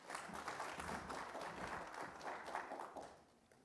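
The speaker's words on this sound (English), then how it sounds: "Please give him another round of applause." Faint, distant audience applause at an Eastern Cape Development Corporation event, a steady wash of many hands that fades slightly near the end.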